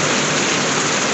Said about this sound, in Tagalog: Hindi ako makauwi ah, lakas ang ulan.